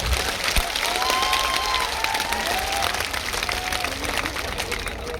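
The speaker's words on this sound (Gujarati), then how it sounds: "બે હાથ ઊંચા કરી તાળીઓથી જિગ્નેશભાઈને વધાવો." A crowd at a political gathering applauds to welcome Jignesh Mevani, with dense, sustained clapping that fills the space, some faint whistle-like tones and murmuring voices mixed in.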